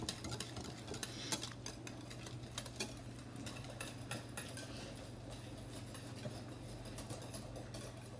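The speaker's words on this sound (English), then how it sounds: "Mix it up really good." Spoon stirring pumpkin pie filling in a bowl, soft scraping and light clinks repeating steadily, faint and close over a low steady hum.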